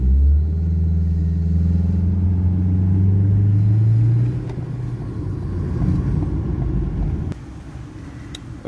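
A Ford Focus with a P0805 clutch fault pulls away in second gear, its engine droning low and steady with a bogging, hesitant note; the tone drops around four seconds in and falls away again near seven seconds.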